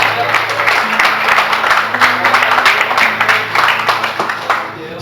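Church congregation applauding, a dense, sustained clapping from a crowd that holds steady for several seconds before easing at the end.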